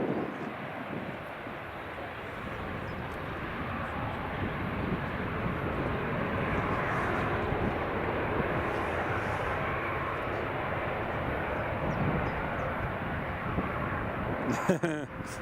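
An aircraft roars steadily at Edinburgh Airport, a broad engine rumble that swells gradually across the span while people talk over it.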